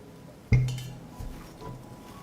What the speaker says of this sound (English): and I put the jars in the pot.